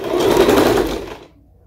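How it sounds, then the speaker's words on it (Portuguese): A sewing machine runs a test seam at a steady, fast whir, loud and close for about a second and a quarter before stopping abruptly. "E agora nós vamos ver se vai costurar."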